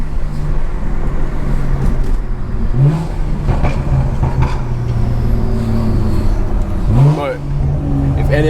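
Car with a loud BMW B58 engine driving around a city, a steady low engine rumble with a few brief revs rising and falling throughout, close and continuous, with a voice talking over it.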